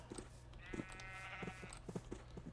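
Minecraft sheep in the game let out a single drawn-out bleat, clear and alone over quiet background sounds.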